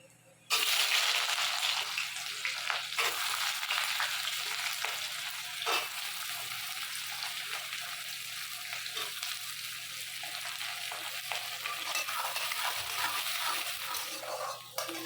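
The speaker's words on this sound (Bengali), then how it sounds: "পেঁয়াজগুলো ভাজা ভাজা হয়ে গেছে" Onions fry in a pan with a loud, dense, continuous sizzle, broken by scrapes and clicks of a spoon stirring them, and no voices.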